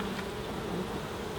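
Honey bees buzz around a hive as a nuc is being hived, a dense continuous drone of many wings, close and steady throughout with no voices.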